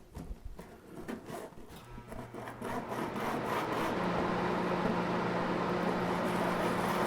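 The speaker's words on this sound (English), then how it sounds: "I'm doing that with some 220 grit sandpaper" 220 grit sandpaper is rubbed in circles, starting as short scratchy strokes that settle into a steady, continuous close-up abrasive hiss.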